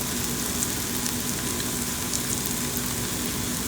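Malpua frying in warm ghee, a soft, steady fine sizzle with faint crackles, quiet and continuous with no talk.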